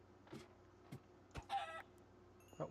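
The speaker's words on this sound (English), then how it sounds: "That was a chicken." Minecraft chickens cluck in short, separate bursts, a few quick clucks spread across a couple of seconds against a quiet game background.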